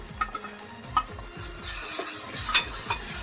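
Tomatoes go into a hot pan of onion with salt and asafoetida, giving a soft, steady sizzle and frying hiss with a few light utensil clinks and stirring scrapes, close and quiet, with no talking.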